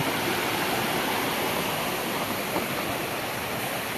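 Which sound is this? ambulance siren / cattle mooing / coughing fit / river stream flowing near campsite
river stream flowing near campsite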